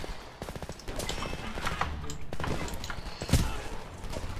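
Full-auto M16 rifle fire in the Homefront video game, bursts of close, sharp shots in quick runs with a heavier blast near the end over a busy battle background.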